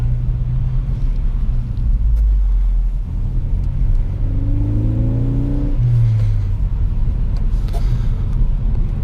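A 2017 Ford Focus ST pulls away on snowy roads wearing summer tires, its engine droning low and steady throughout and rising in pitch as it accelerates through the gears, heard from inside the car with no talking.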